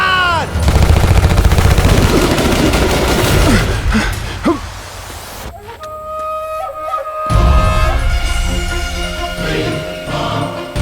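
Heavy bursts of automatic gunfire and explosive blasts fill a Hindi action movie battle scene, loud and continuous, then drop away into a tense orchestral score before another volley erupts.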